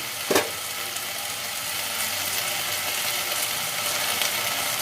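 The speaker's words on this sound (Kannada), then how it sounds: "ಆಲೂಗೆಡ್ಡೆನ ಚೆನ್ನಾಗಿ ಫ್ರೈ ಮಾಡ್ಕೊಳ್ಳಿ. ಫ್ರೈ ಆಗಲಿ ಇದು." Potatoes frying in a pan, a steady hissing sizzle throughout after a brief clatter at the start, close and fairly loud.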